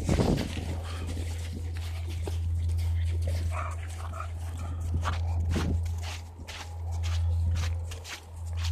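An American Bully dog out on a winter walk, with footsteps and soft dog sounds such as faint whimpers over a steady low outdoor hum throughout.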